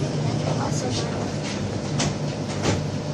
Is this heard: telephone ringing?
no